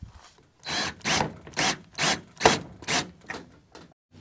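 Wood screws with washers being driven to mount a solar pendant light bracket onto a wooden purlin, heard as about eight evenly spaced, close, loud grinding bursts in a steady rhythm.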